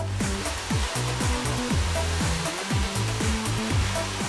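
A hair dryer blows a steady, loud, close airflow roar while hair is wound around a round brush in a salon. The roar wavers slightly as the brush strokes repeat.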